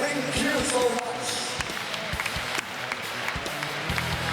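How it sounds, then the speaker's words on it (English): Photographers at an awards ceremony receive applause from the crowd, moderate clapping mixed with scattered sharper claps and thumps, while voices carry on beneath and around it. "let's give a round of applause to all our photographers"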